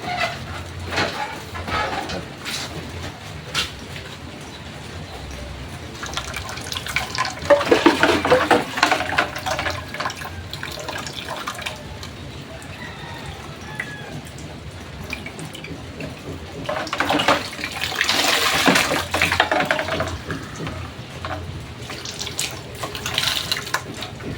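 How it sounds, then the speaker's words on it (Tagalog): Water running into a container from a tap or pour, a continuous splashing gush that swells louder twice with dripping between, near and alone without talk. "Maglalagay tayong tubig."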